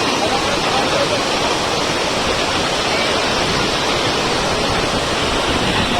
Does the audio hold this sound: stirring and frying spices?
no